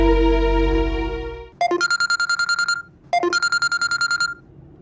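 A telephone rings in two bursts of rapid, trilling electronic tones, loud and close, following a sustained musical chord that fades out.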